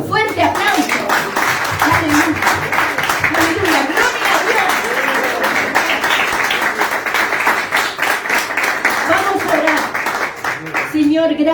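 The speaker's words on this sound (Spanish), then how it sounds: "Denle un fuerte aplauso." Church congregation applauding loudly and steadily after a call from the pulpit, dense clapping filling the whole stretch with voices calling out above it, then dropping off at the very end.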